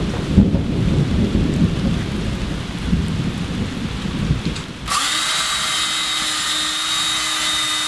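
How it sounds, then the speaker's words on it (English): Steady heavy rain hiss fills the clip, with a rough low rumble early on and a brighter, denser patter taking over halfway through. "It's raining pretty good out there now."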